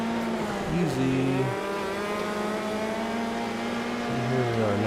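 Dirt sprint cars racing in World of Outlaws 24: a loud, continuous high engine drone with pitch shifts as the throttle changes and other cars run close by, and someone talks over it.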